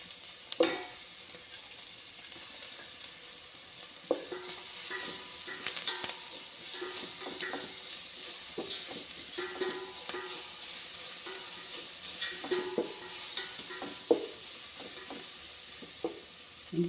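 Onions fry with ginger garlic paste in a pan for a vegetable biryani, a soft continuous sizzle broken by repeated clinks and scrapes of a spoon stirring, close and fairly quiet with no talk.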